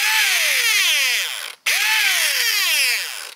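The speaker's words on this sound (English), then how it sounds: "Just like the motor spinning or the gears spinning." A damaged airsoft gun gearbox whirs as its motor and gears spin up and wind down, two loud close bursts of falling, grinding whine separated by a short gap.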